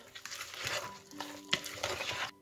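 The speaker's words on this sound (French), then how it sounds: "Je mélange encore un peu." A spoon stirs thick muffin batter with pear and chocolate chips, giving soft, close scraping and squelching strokes in an irregular rhythm, with one sharper knock partway through.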